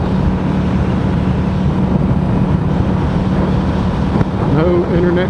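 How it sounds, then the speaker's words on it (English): Strong wind buffets the microphone while driving through open New Mexico cattle country, a steady loud roar that stays constant throughout, with a voice briefly audible near the end. "Well, it sure is windy."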